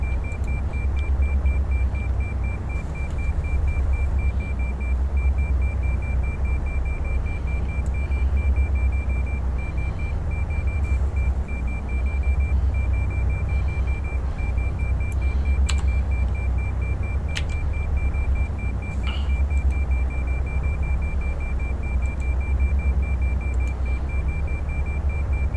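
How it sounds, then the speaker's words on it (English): A rapid beep repeats continuously inside the AeroWorx DC-3 cockpit in X-Plane 11, layered over a constant low engine drone, with a few brief clicks and no talking. "I still have no idea what that beeping sound is"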